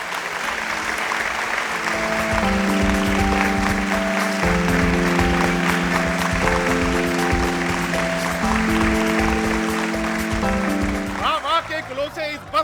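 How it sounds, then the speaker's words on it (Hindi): A mushaira audience applauds poet Abdul Hakeem Nasif at an Eid special programme: dense, sustained clapping over steady musical tones that runs for about eleven seconds, then thins out near the end. "आपकी बहुत सी तालियां होनी चाहिए"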